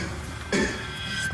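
A single short cough bursts out once near the middle, close to the microphone, against a steady background hum.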